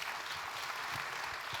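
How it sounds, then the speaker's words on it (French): Quiet, continuous applause fills the room at an awards ceremony for community associations: a dense, steady patter of many hands, heard from a distance. "Oui, on peut vous applaudir"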